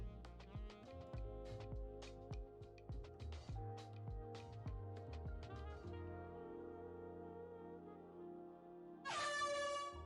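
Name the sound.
loud honk sound alert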